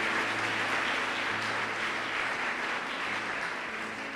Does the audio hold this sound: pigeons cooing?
no